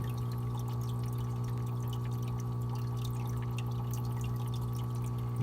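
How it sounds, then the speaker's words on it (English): Water poured into a hang-on aquarium breeder box, a steady continuous splashing pour alongside a constant pump hum, lasting throughout without talk. "Just throwing some water in."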